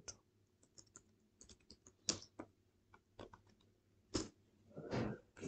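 Sharp keystrokes on a computer keyboard come in irregular bursts, close and fairly quiet, ending in a louder flurry and a heavier final key press; no one speaks.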